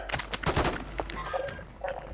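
Bursts of gunfire in the battle royale shooter Warzone, several rapid shots in quick succession early on, then sparser, fainter shots with in-game sounds; no talk.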